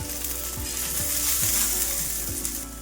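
Green chillies, peanuts and garlic frying in a hot pan for a rustic crushed chilli thecha, a dense and steady sizzle heard close up, with a few soft stirring knocks and no one speaking.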